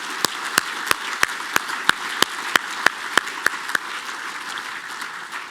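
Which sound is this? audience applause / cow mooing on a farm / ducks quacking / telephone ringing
audience applause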